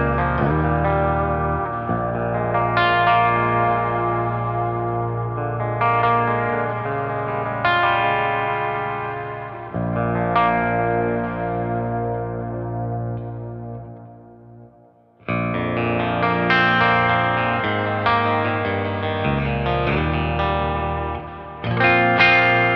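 A Mayones Regius electric guitar, played through its bridge pickup with chorus, echo and light distortion, rings out in sustained strummed chords and arpeggios that swell and fade, a brief gap near the middle, loud and close with no talking.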